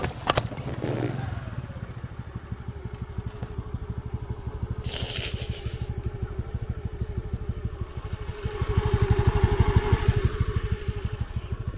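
A motorcycle rides along a rural road near a beach, its engine droning steadily and close throughout, with rattling and clatter over rough ground and a rising rev near the end.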